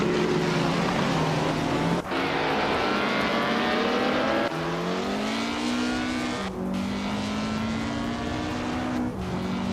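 A 1951 Alfa Romeo 159 race car engine whines as it zooms off, the pitch climbing steadily through several gear shifts with brief cuts between them, loud and close.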